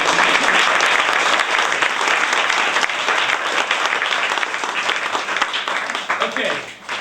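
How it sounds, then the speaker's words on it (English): Loud, steady audience applause for volunteers at a stage hypnosis show, a dense wash of clapping that holds for about seven seconds before tapering slightly at the end. "A big applause for our volunteers."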